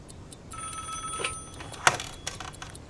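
A home telephone rings at low volume with a quick metallic bell trill. Short ringing bursts come and go over a quiet indoor background.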